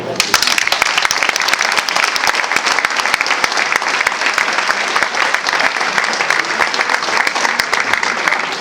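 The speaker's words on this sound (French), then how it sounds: "je vous demande encore une fois d'applaudir Louis Alliot" Dense, loud applause from a large crowd at a Front National political rally in Beaucaire for Louis Aliot, sustained and steady throughout with no break.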